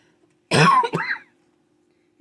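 A single close, short cough or throat-clear from a woman working on a paper craft junk journal, two quick bursts in an otherwise quiet room.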